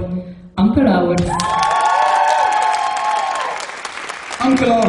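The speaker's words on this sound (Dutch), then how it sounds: "Uw applaus voor Anke Lauwers." Audience applause at the Miss Fashion award gala, a dense, loud burst of clapping with cheering that swells after a short opening and carries on steadily, with a voice breaking in near the end.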